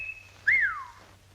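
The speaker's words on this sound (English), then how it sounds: "the emission of a whistling sound, vulgarly known as the call of the wolf, perpetrated by puckering the lips and expelling the sound thusly" A single wolf whistle made by puckering the lips, a short rising-then-falling whistle following a faint opening tone, close and clear in a quiet room.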